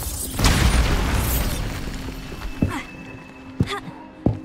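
The Bombarda blasting spell in Hogwarts Legacy goes off with a loud, rumbling boom that fades out, followed by several sharp debris knocks and clatters.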